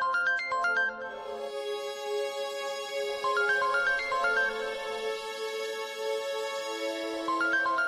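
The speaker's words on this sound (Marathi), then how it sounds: "अगं कोणाचा फोन आहे?" A mobile phone ringtone plays in a home, a clear electronic melody of repeating rising tone phrases, moderately loud and alone with no talk over it.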